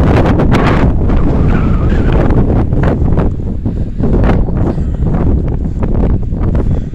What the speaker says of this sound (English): And that wind's whipping.